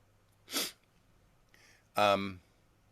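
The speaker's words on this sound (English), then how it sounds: "I'm going to sneeze, maybe." A quick breathy intake, then a loud close sneeze after a short pause, in a quiet room.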